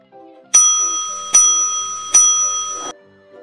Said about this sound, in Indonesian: bel masuk pun berbunyi